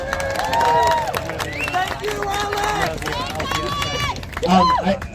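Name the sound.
crowd applause and cheering at rally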